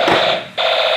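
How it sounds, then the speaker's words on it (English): Toy police car siren sounding a loud electronic wail that breaks off briefly and then resumes, alone without voices. "can you press the siren?"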